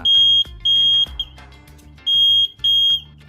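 A homemade flame sensor alarm sounds loudly close by as several sharp, shrill electronic beeps in bursts of about half a second, separated by short gaps, with no voices.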